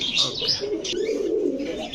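Pigeons coo in a group at a pigeon seller's loft in Bangladesh, a steady murmuring drone that runs without a break and sits close and moderately loud, with a few brighter chirps mixed in.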